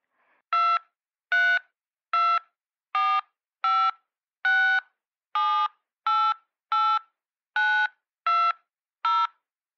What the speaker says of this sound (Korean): 편리한 상담을 위해 고객님의 휴대폰 번호와 별표를 눌러주십시오